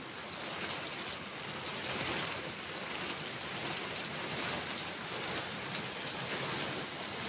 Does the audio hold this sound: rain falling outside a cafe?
yes